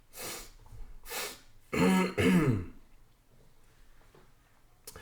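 Close, breathy throat clearing and coughing come in several bursts: two raspy clears, then two heavier voiced coughs, fading into quiet breathing.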